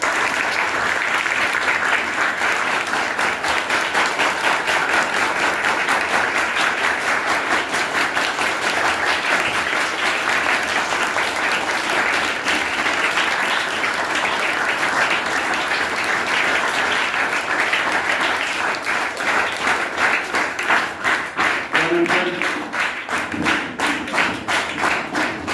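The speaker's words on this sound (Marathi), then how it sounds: "पुन्हा एकदा जोरदार टाळ्या." An audience at a felicitation event applauds loudly and continuously for about twenty-five seconds, a dense sustained wash of many hands clapping that thins slightly toward the end.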